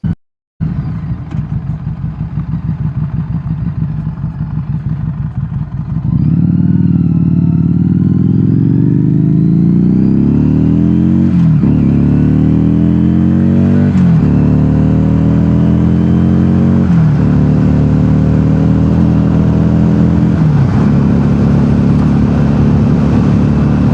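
A Harley-Davidson Street XG500 motorcycle idles, then pulls away on a ride, its engine note climbing and dropping through several gear changes, loud and steady throughout with no voices.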